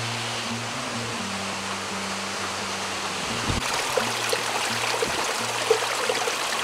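A waterfall in Colombia roars steadily, a loud continuous rushing wash of water with a low hum underneath and a few faint knocks.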